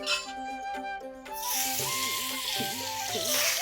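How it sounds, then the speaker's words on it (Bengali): Hot oil bursts into a loud, steady sizzle as fish hits the pan, crackling continuously over a background of music. "তেল গরম হয়ে গেছে এবার মাছ ভেজে নেব"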